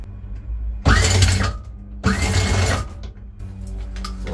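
A boat's anchor windlass motor whirs in two close bursts of about a second each, separated by a short pause, with quieter mechanical clicks afterward.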